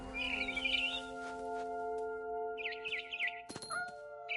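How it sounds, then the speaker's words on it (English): A barn swallow chirps outside a window in the game What Remains of Edith Finch. Clear, close bursts of twittering come in two clusters over a faint background tone, and there is no talk. "Then I heard chirping outside my window."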